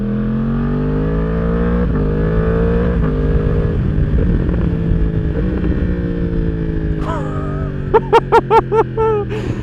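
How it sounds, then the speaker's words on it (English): A Yamaha R1 sportbike with an aftermarket exhaust gives a loud, close, low rumble that rises and falls through the gears, then a quick series of sharp throttle blips near the end. "Coolest thing about this bike is the low blips. God, just listen to that rumble, man."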